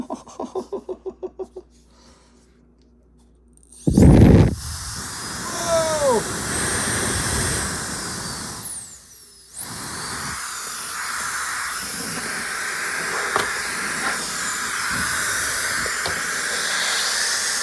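A KiCA Jet Fan 2s cordless electric blower starts with a sharp burst, then settles into a loud, steady high-pitched whooshing whine that runs continuously, with a brief dip and restart partway through and voices faintly underneath.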